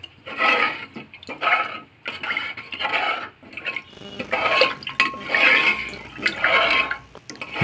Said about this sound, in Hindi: आम पानी देदेबा